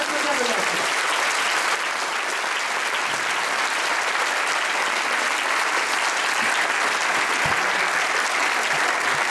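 A large audience at a Pentecost 2012 gathering claps continuously and loudly for Pope Benedict XVI, a thick unbroken wash of hand claps with a faint crowd murmur underneath.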